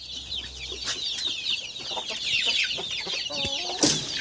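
Cochin chickens cluck and squawk close by in a busy, irregular stream of calls on a farm, with several louder cackles toward the end.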